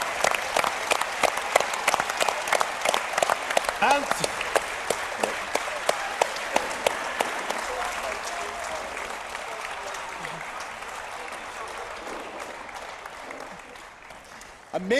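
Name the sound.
audience applause at esports event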